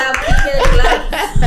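Hands clap in a short burst amid light chuckling and voices talking over it.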